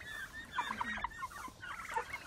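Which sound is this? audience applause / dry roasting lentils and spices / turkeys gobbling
turkeys gobbling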